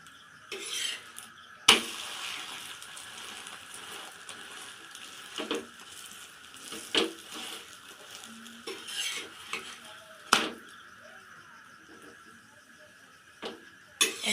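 A chicken roll fries in a pan over a high gas flame with a soft, steady sizzle, interrupted by occasional sharp clanks and scrapes of a utensil against the pan.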